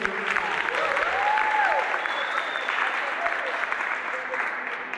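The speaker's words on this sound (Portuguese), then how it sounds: "Então vamos aplaudir os dois." Audience applause after an interview at a youth gathering: steady, dense clapping from a roomful of people for about five seconds, with a few voices mixed in.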